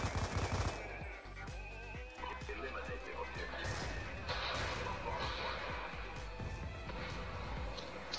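Rapid video game gunfire in a Search and Destroy match crackles and pops almost continuously amid dense game noise, with players talking over it.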